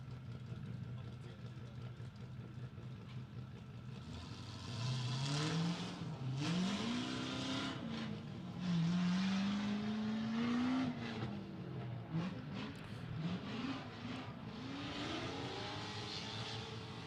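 LS-powered Nissan S13 drift car engine at a drift competition, revving up and down in rising and falling sweeps at middle distance over crowd and track noise, with a commentator talking over part of it.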